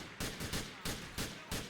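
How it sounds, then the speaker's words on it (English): Explosions boom in a Need for Speed Most Wanted race: about half a dozen loud, rapid, evenly spaced blasts follow one another in quick succession. "Oh my gosh, shit's still blowing up."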